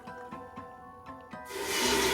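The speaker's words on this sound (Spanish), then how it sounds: "vamos a poner 1 litro de agua" Water is poured into a pot of mole with romeritos in a home kitchen, a sudden steady splashing rush following a few soft clinks and knocks.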